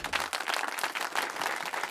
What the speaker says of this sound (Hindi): हमारी पहली टीम है, जोरदार तालियां उनके लिए,